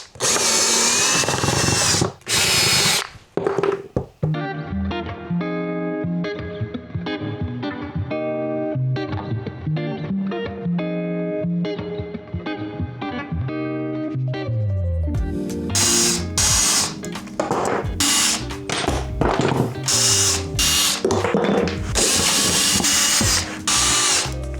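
Power drill whirring in bursts while backing screws out of the subfloor of an Airstream trailer under renovation, a loud close-up mechanical whine with ratcheting starts and stops and changing pitch, no talking.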